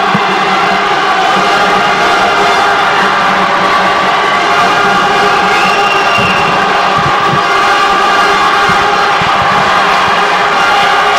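A dense stadium crowd at a badminton team match roars and cheers continuously, loud and sustained with no break.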